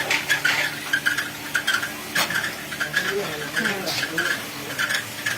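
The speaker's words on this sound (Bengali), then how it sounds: "এই যে তিনটি কড়াইতে চাল নাড়া হচ্ছে" Rice grains are stirred in three pans for making puffed rice, giving rhythmic scraping and rattling strokes that repeat steadily, with a low machine hum underneath and faint talk.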